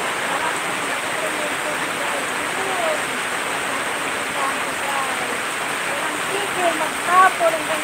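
Steady heavy rain from the tail end of typhoon Kersing, a dense, continuous hiss of water falling on surfaces, even and unbroken throughout, with a few faint sounds near the end.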